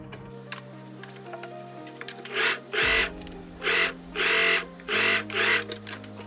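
Sewing machine edge stitching a seam on a summer dress: soft ticking and a low hum at first, then five loud whirring bursts of stitching in quick succession, close up.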